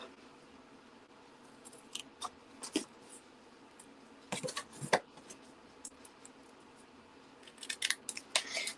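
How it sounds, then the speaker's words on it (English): Scissors snipping a tiny scrap of paper for a craft project, with quiet, close, irregular crisp snips and rustles, a few grouped in quick clusters. "So I'm just going to quickly cut a tiny little scrap."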